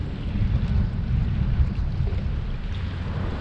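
Strong wind buffets a fishing boat on a saltwater estuary, a steady loud low roar and rumble of gusts against the microphone, with no talking.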